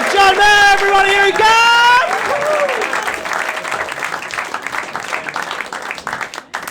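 Comedy festival crowd applauding and cheering as a loud whoop and shouted voices ring out first, then the clapping carries on in a steady, dense burst under continued talk.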